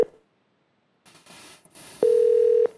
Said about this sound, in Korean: 전화 연결하고 있습니다.